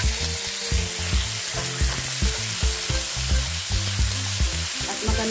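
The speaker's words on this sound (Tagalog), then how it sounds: "igigisa natin yung ating bawang" Garlic, onion and tomato sauté in a hot pan, giving a steady loud sizzle broken by repeated clattering stirs and scrapes of the utensil, with no talking.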